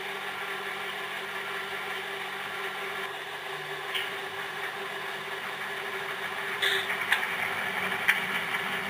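An Athearn F7 model locomotive with a sound decoder runs its diesel engine sound, a steady low mechanical drone with faint electronic clicks near the end, fairly quiet and without talk.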